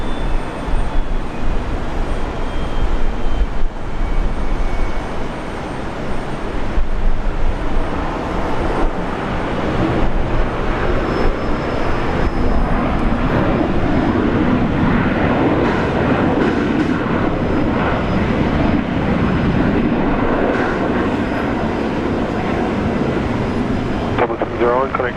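Airbus A350 airliner at Brisbane International Airport during a severe storm, a steady broadband jet roar that rumbles on continuously throughout, with voices talking over it.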